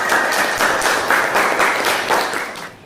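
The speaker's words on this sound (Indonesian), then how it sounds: "Beri tepuk tangan." Classmates clap after a group presentation in a school classroom, a brisk, loud patter of hands from a modest group lasting a few seconds before tapering off.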